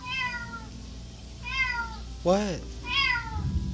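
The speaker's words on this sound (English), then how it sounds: "There is another cat hanging out." A cat meows several times outdoors, rising and falling calls spaced out with brief gaps, fairly close, while a person briefly speaks and a low background rumble continues.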